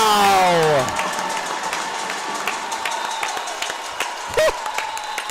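Crowd applauding and cheering steadily at a men's volleyball semifinal between Holland and STU, a dense wash of clapping that swells at the start and carries on at an even level, with a brief whistle or shout rising near the end.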